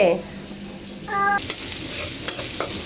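Onions sizzle steadily in a hot pan, with a few sharp scraping stirs and a short high tone briefly over the frying.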